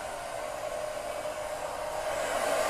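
A hair dryer fitted with a diffuser drying curly, wavy hair gives a steady, close, loud whooshing blow with no break and no voices.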